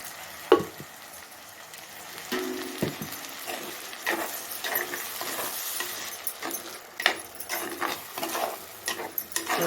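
Ground tomato hits a hot pan and sizzles, a faint steady frying hiss broken by sharp clicks and scraping stirs, with no talk.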